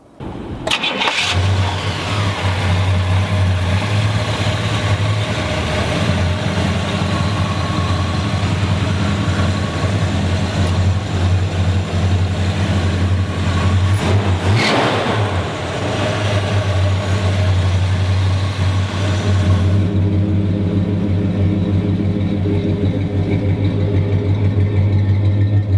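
A 1966 Pontiac Grand Prix V8 engine runs loud and steady near the microphone, idling with a deep hum that rises into a rev partway through before settling back.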